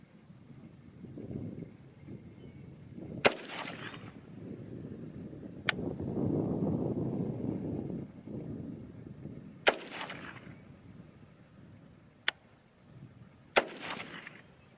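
Four sharp, loud rifle shots from a Bear Creek Arsenal varmint rifle firing 60-grain V-Max varmint rounds ring out outdoors, spaced unevenly, with wind rumble between them.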